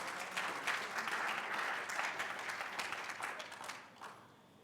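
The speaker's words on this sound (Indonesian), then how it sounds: "Tak anteni tepuk tangannya semua ya." Congregation clapping during a Sunday afternoon church service, a full crowd of hands applauding steadily and loudly before thinning out and fading near the end.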